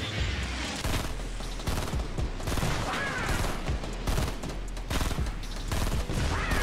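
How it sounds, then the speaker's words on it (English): Gunfire in Fortnite Battle Royale rattles in rapid, repeated bursts of shots throughout, loud and dense, layered with other game effects and no clear talk. "I shot him once."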